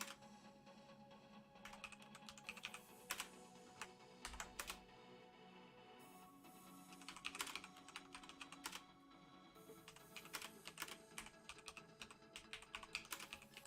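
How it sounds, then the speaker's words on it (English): A mechanical keyboard with Cherry Red switches is typed on in quick bursts of close, clicky keystrokes with short pauses between runs and no talking. "You're typing like you're typing on a typewriter."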